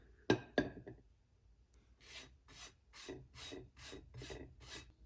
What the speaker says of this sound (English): Now what we have to do is apply another coat of Mod Podge to the back of the plate.